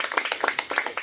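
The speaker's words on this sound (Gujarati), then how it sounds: "જોરદાર તાળી" An audience at a product demonstration claps enthusiastically, a quick run of sharp, fairly close hand claps repeating in an uneven rhythm for about a second.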